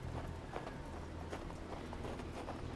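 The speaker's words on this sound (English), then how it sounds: "Lucky we found these horses." Rhythmic horse hoofbeats in the video game Hard West 2, clip-clopping at a steady trot, fairly quiet, over a low background rumble.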